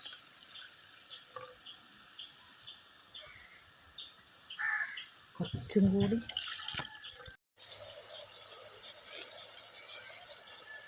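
Water runs and splashes as a mixer jar is rinsed and filled while cooking a vanpayar curry, a steady tap-like wash with a brief pour, a short break near the end, and a voice speaking briefly.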